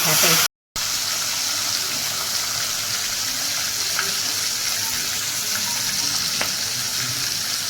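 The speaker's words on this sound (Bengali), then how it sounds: "ওই দুটোর মতন এইগুলো আমি ভালো করে ভেজে নেবো" Catla fish heads frying in oil in a pan, a loud continuous close sizzle with faint crackles, briefly cut to silence near the start.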